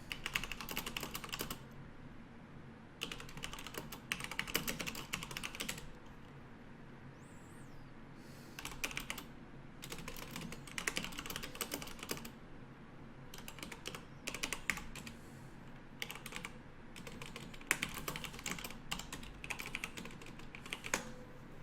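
Bursts of typing on a computer keyboard, rapid clustered key clacks separated by short pauses, close and moderately loud over a faint background hum, with no talking.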